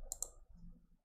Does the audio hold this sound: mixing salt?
no